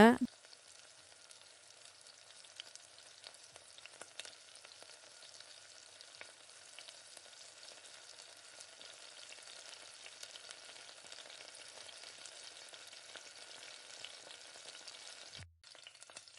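Spices, onions and chicken sizzle steadily in hot oil for chicken biryani while being stirred, with occasional scraping taps under the constant frying hiss. The sound runs close and even, with no talk.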